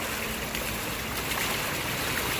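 Steady broadband water noise, like a continuous pour or stream of water splashing, with no talking; water poured over a sluice while gold prospecting in dirt with black sand.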